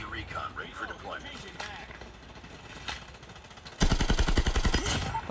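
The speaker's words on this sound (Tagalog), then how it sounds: "Ang pangit ang tunog ng baril mo ah." Rapid automatic gunfire from the mobile shooter game Call of Duty Mobile, with scattered shots under talk at first, then a loud sustained burst of closely spaced shots in the last second and a half.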